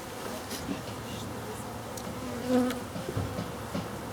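Honeybees buzz steadily inside an opened hive a week after a package was installed, a continuous close insect hum with one brief louder swell near the middle and no voices.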